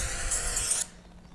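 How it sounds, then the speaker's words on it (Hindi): Sandpaper is rubbed briskly over a magnesium ribbon to scrape it clean, a close, steady rasping scrub lasting under a second before stopping abruptly. "तो इसे रेगमाल से रगड़कर साफ कर लेते हैं।"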